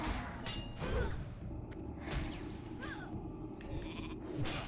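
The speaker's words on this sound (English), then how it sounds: "Oh, sheep." Sheep bleat in the video game World of Warcraft Classic, several short bleats spaced across a few seconds amid soft combat whooshes and thuds.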